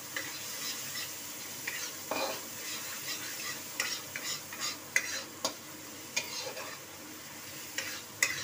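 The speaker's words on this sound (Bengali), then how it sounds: "চলো এটাকে একটু নাড়িয়ে নিই।" Potato, pointed gourd and soybean curry stirred in a pan, a spoon scraping and clinking in irregular strokes over a low continuous sizzle.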